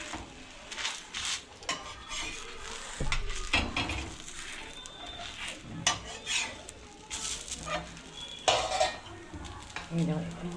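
Rice pitha batter stirred in a pan on a gas stove: a utensil scrapes and clinks against the pan continuously under a faint sizzle, close and steady, with no talk.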